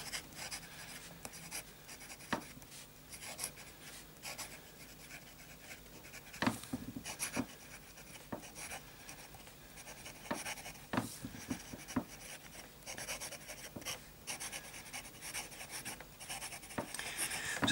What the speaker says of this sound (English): Let's start with a bit of fine writing.